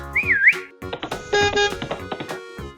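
A cartoon character whistles a short, bright, wavering tune, rising and falling twice, then stops. Clattering and scattered effects follow, with a brief held tone in the middle.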